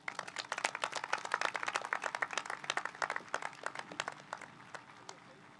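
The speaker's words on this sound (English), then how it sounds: "Please join me in welcoming our guests with an applause." At the South Johnston High School 2023 graduation ceremony, the audience breaks into a burst of applause, many hands clapping in quick, irregular bursts that build and then thin out as the clapping tapers.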